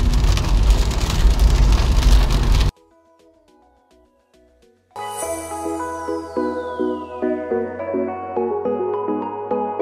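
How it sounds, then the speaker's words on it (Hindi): Heavy rain with wind pours down during a thunderstorm at the Lakhanpur border in Jammu, a loud dense wash of noise for the first few seconds, followed by a brief near-silence and then music. "आज हम आया तो यहाँ पे बारिश भी हो गई है विद आंधी तूफान और विद बिजली ऑल्सो"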